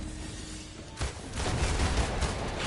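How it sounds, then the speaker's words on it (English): Flamethrower attack in the Marvel's Avengers video game: after a quieter stretch, a sudden loud burst erupts into a continuous roaring, crackling blast that sustains to the end. "Flamethrower."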